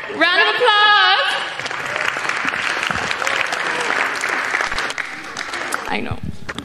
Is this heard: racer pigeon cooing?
no